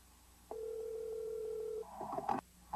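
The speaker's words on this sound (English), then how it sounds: "Someone's getting a phone call." A steady telephone tone from a phone receiving a call holds for over a second, then gives way to brief clattering, handset-like noises at close range, with no voices.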